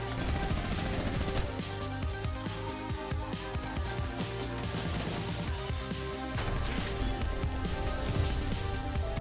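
Sustained minigun fire in the video game Fortnite, a dense unbroken stream of rapid shots, loud and continuous and mixed with other game sounds.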